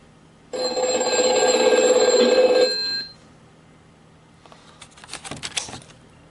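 An old-fashioned telephone bell rings loud and close in one sustained burst of about two and a half seconds, followed by a pause, then faint clatter and soft rustling.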